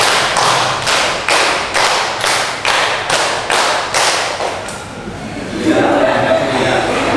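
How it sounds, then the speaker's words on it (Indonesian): Students in a maths classroom clap together in a quick, evenly spaced run of about eleven loud unison claps, then fall silent as a faint murmur and light laughter follow. "tepuk 2 kali"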